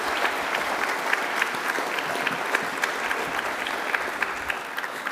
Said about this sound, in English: Can we have another round of applause for everybody who's nominated for our awards?